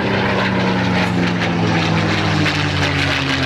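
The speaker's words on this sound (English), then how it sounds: "Right around in here, that airplane is picking up speed at a tremendous rate." A Four Horsemen aerobatic propeller airplane roars steadily and loudly as it dives in a loop and picks up speed, its engine drone continuous throughout.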